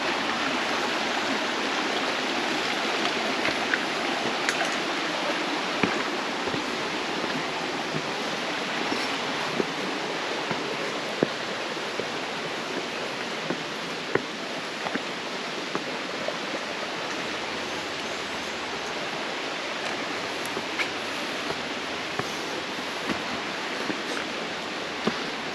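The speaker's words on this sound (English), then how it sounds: "And that was Laurel Falls." Laurel Falls on the Appalachian Trail pours in a constant, loud rushing roar of falling water that stays even throughout, with faint ticks and no talk.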